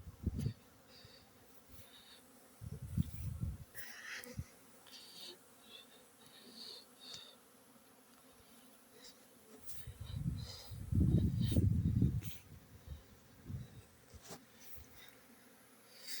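Honey bees fly around outdoors on a November day, their faint buzzing drifting in and out, with a few louder close passes swelling over the quiet background.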